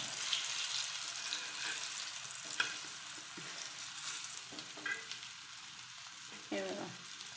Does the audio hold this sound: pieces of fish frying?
yes